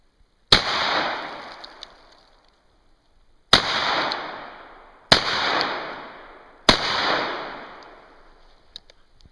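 Four sharp, loud gunshots from a Beretta Laramie revolver ring out outdoors with irregular spacing, each followed by a decaying echo tail.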